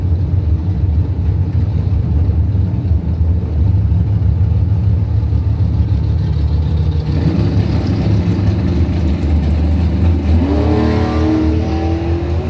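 A 1967 Camaro at a bracket drag racing event roars down the strip. The loud, steady engine note rises in pitch as it accelerates hard, with a climbing whine of revs toward the end.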